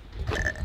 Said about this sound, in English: You just burped on national,